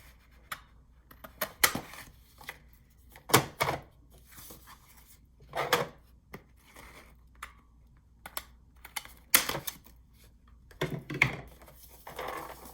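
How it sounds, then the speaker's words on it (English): Scissors snip a half-moon shape out of a paper sheet to form a pocket in a handmade junk journal page: crisp, irregular cuts, close and fairly quiet, with short pauses between them and no talking. "I'm going to go ahead and cut out that little half moon there so you know there's a pocket."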